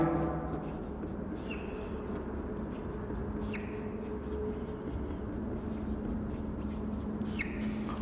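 Chalk or marker writing on a board during a partial differential equations lecture, with short scratchy strokes recurring over steady room noise and faint background voices.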